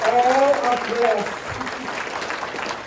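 An audience applauds at a candidates meeting held by a social justice coalition in Guelph. Steady clapping runs under someone talking over it at the start.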